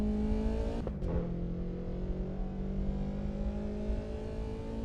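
A BMW E30 driven in the Assetto Corsa EVO racing game sends out a loud, close engine note that dips sharply for a moment, like a gear change, then settles into a steady climbing drone.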